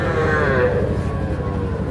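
At a rural cattle market in Ambari, a cow lets out a loud, close, drawn-out moo over a busy background hum.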